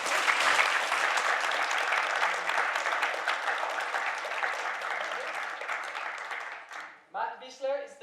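An audience at a gender debate in Geneva applauds an ambassador taking the stage, dense sustained clapping that tapers off before a voice begins speaking at the end.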